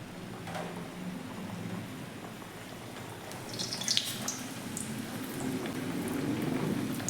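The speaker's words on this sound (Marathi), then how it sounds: "आता आपण ते तळून घेऊया" Chirote pastries frying in hot oil in a kadhai, a soft, continuous sizzle and bubbling at low level with faint crackles, growing slightly busier toward the end.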